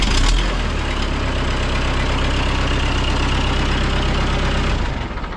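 A Kubota tractor engine, just repaired after a starter fault, runs loud and steady at idle, a dense even drone that holds throughout and dips slightly at the very end.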